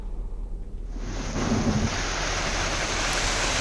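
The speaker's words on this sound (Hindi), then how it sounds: "तेज हवा के साथ बारिश हुई।" Strong wind drives a heavy burst of unseasonal rain, a broad rushing roar that swells in after a quieter start and then holds steady and loud.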